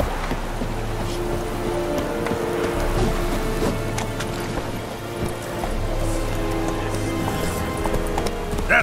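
Geralt's horse Roach gallops in The Witcher 3: Wild Hunt, its hooves beating a quick, rhythmic clip-clop over a low game ambience and water-like wash, fairly close and steady.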